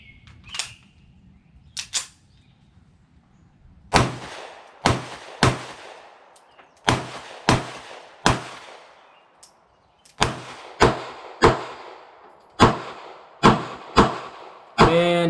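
Pistol shots from a CZ P-01 at a shooting range ring out as a series of sharp, distinct reports, mostly in quick pairs and triplets, after a few fainter pops at the start.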